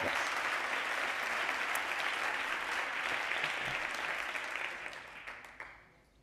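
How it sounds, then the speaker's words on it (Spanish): An audience at a conference talk applauds in a dense, steady burst of clapping that holds for several seconds, then thins and fades out near the end. "Daros ese aplauso por ser locos."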